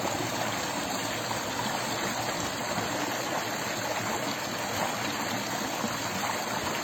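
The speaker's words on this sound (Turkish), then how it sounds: "şu su sesini dinleyerek" A clear stream flowing briskly outdoors, a steady full rush of water with trickling and gurgling detail, constant and close, with no voices.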